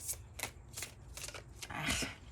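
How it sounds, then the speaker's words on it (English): A deck of tarot cards is riffled and shuffled close by in a quiet room, making a rapid run of crisp papery bursts that ends in a longer riffle. "A card hasn't come out, but I'm shuffling."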